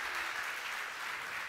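A church congregation claps steadily in a dense, continuous burst of applause that fills the room, with no voices over it.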